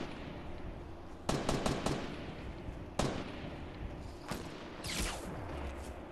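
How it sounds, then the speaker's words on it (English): Bursts of gunfire in a Fortnite match, a rapid string of shots followed by scattered single and double reports, sounding somewhat distant and sharp against a quiet backdrop. "But considering the gunfire going on"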